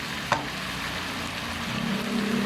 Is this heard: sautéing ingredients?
yes